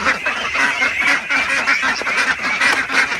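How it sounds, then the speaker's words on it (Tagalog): Large ducks on a farm honking and quacking in a dense, continuous chorus, several birds close by calling over one another without pause. "Ito yung mga naunang malalaking itik na oh."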